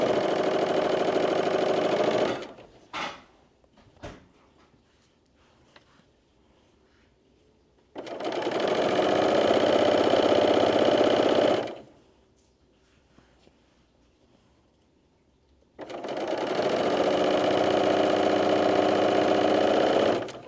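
A sewing machine stitches striped fabric for a tank dress in three loud, steady runs of rapid whirring, separated by quiet pauses with soft handling noises.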